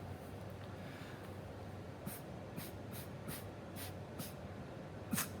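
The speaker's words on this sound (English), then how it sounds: "And then just burst your colors with your straw." Watercolor paint blown through a straw on paper, heard as a series of short breathy puffs spaced about half a second apart, close and fairly soft over steady room noise.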